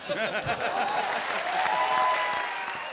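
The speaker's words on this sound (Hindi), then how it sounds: "जोरदार तालियां।" Enthusiastic applause from a comedy show audience, loud and continuous, with clapping filling the whole moment.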